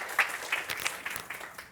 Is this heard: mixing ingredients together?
no